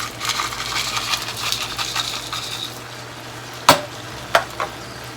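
Frozen corn, beans and carrots stirred into a thick shepherd's pie filling, giving a soft continuous scraping and sizzling churn, then a few sharp utensil knocks against the pan near the end.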